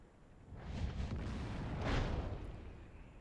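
A Wespe self-propelled artillery gun fires in World of Tanks, a broad rumbling boom that swells over about three seconds and peaks near the end of its roll, with no voices over it.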